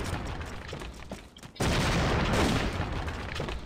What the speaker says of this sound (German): Der wirft mir Granaten.